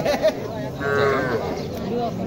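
A cow gives a long, drawn-out moo at close range, rising and holding for about a second amid low background noise, at a cattle market in Mahadevpur, Naogaon, Bangladesh.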